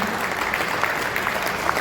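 An audience at an overseas Pakistanis conference claps steadily, a dense, even wash of hands filling the short stretch without voices.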